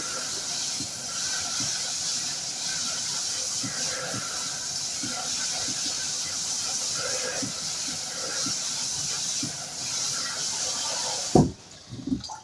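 Lukewarm tap water runs in a continuous hissing stream over sprouting seeds being rinsed, with faint clicks and shuffles beneath, until the flow stops abruptly and a couple of knocks follow.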